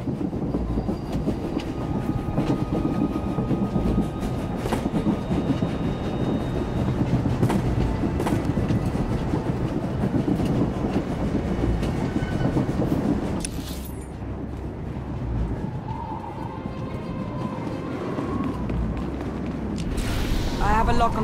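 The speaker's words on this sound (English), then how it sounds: "The train is on the move, and the traitor's on board." A train rumbles and clatters steadily on the move in a Star Wars: The Old Republic game scene, with dense mechanical rattling that shifts in tone midway and faint game sounds and voices behind.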